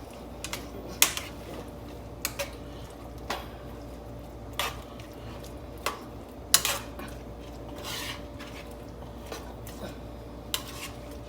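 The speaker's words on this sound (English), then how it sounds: "We're going to get them stirred in real good before we put anything else in." Plantains being stirred in a pan for a vegan breakfast bowl, giving a steady run of light scraping clicks and taps from the utensil against the pan at close range, spread unevenly across the stretch with no talking.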